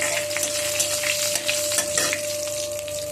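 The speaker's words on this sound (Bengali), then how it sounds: "দিয়ে দেবো একটা লঙ্কাকে ফাটিয়ে, আর দিয়ে দেবো 1 চামচ গোটা জিরা। এই ফোড়নটাকে আমি ভালো করে ভেজে নেব।" A chili and whole cumin seeds fry in hot oil in a wok for a tempering, a loud dense crackling sizzle with quick popping bursts throughout.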